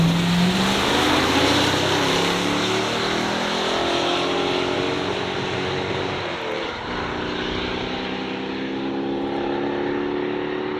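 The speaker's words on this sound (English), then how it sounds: "That is a 1970 Dodge Polara." A 1970 Dodge Polara 500 convertible with a 440 cubic-inch engine makes a loud, sustained roar on a drag strip run, with a steady dense drone and a rising engine pitch, no voices.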